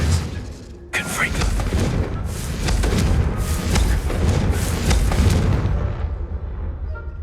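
A Confringo blasting spell in Hogwarts Legacy sets off heavy booming blasts: a sudden loud hit, then a dense, continuous barrage of thuds and crackling impacts over deep rumble that eases off toward the end.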